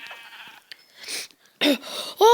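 Blocky video-game sheep from Minecraft bleat in a few short, loud calls, with quieter game sounds between them and no talking.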